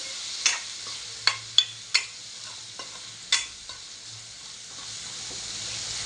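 Vegetables sauté in a pan with a quiet background sizzle, punctuated early by a handful of sharp spatula taps and scrapes that thin out toward the end.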